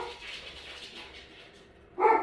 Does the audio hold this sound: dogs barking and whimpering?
yes